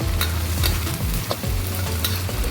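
Chicken frying in a pan for Malaysian chicken peratal, a thick dry gravy dish: continuous close sizzling and spitting oil, with a few sharp spatula clinks and stirring scrapes, no talking.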